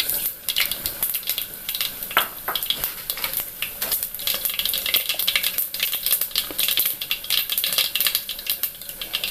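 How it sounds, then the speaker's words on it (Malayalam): Mustard seeds splutter and pop in hot coconut oil in a pan, a dense run of sharp crackles and sizzling close up, with no voices. "കടുക് പൊട്ടി അതിലേക്ക് ചുവന്നുള്ളി ചേർക്കാം."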